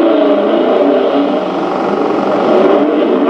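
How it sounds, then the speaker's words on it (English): Rally cars leave the start of the 1968 Monte Carlo Rallye at night, among them an Alfa Romeo, a Lancia and a Datsun 2000, a loud sustained engine roar close by, steady and without talk. "Off goes the first car, number 26, Alfa Romeo."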